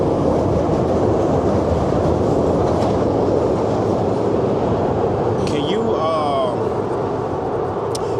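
A Chicago CTA Blue Line train on the California branch rumbles steadily and loudly with a continuous clatter of wheels, then a brief high metallic squeal of wheels on rails rises near the end.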